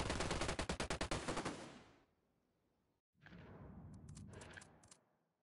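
Rapid bursts of automatic gunfire from a first-person shooter game, a dense rattling volley at close range that stops abruptly, followed by a rumbling gap and sharper scattered shots further off.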